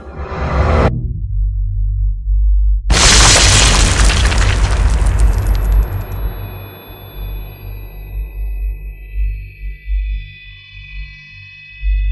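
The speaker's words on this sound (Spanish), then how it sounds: "estalló el cuarto reactor de la central, y unos segundos más tarde una segunda explosión hizo volar por los aires la losa del reactor" An explosion of the fourth reactor at the Chernobyl nuclear power plant: a low rumble cuts to silence, then a huge deep blast erupts and slowly decays into a long, fading rumble, with no talking.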